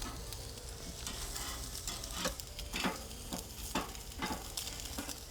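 Meat being scraped and charred on a grill: a steady hiss of sizzling under a run of sharp scraping strokes that come in an uneven rhythm, fairly quiet and close, with no voices.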